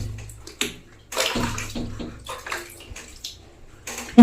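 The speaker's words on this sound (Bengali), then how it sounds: "এবারে বালতির থেকে জল নিয়ে আমি দিচ্ছি" Water poured from a bucket over a pet during its bath, a few separate splashing pours close by with short gaps between them.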